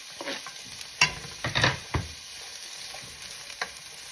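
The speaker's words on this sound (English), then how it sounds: "I'm going to put these onions into the pan. Hear that sizzle?" Onions sizzle in a hot frying pan for a healthy breakfast egg scramble: steady close frying hiss, with a few louder crackles and stirring scrapes in the first two seconds.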